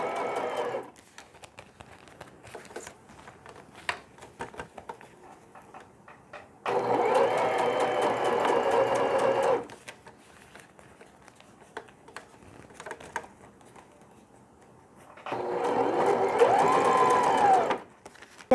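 An electric sewing machine stitches a hanging laundry bag for a baby, running in two loud, steady bursts of rapid whirring with quiet handling sounds and pauses between them.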